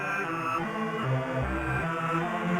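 An Elektron Monomachine synthesizer patch sustains a dense, buzzing, harmonically rich drone with shifting low notes, steady and moderately quiet, with no talking.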